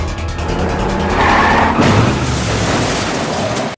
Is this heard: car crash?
yes